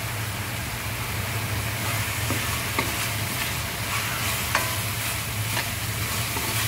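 Shrimp paste (alamang) sautés in a pan with a steady, even sizzle and occasional faint clicks of stirring, close and unbroken, with no voices.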